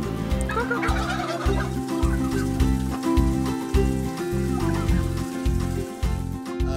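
Turkeys on a farm gobble loudly in rapid, repeated bursts, a dense chorus of birds close by that carries on without a break.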